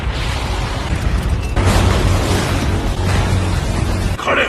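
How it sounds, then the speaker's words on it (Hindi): Dragon fire attack in a video game: a loud, continuous roaring blast with a sharp onset partway through, sustained rumble and crackle before cutting off near the end. "Dragon fire."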